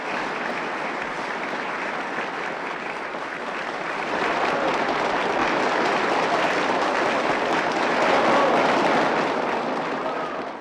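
Sustained applause from a theatre audience after a performance, a dense continuous crowd of clapping that swells louder midway and holds steady, with a broad wash of hands filling the room.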